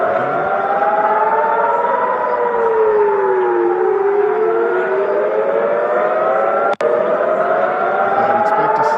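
A loud missile warning air raid siren in Israel wails continuously, its pitch slowly rising and falling, with a brief sharp click partway through.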